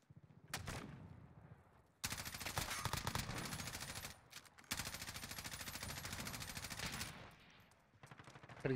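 An M4A1 rifle in Call of Duty Modern Warfare fires long, rapid full-auto bursts, loud and close, separated by brief pauses, with a couple of single shots at the start.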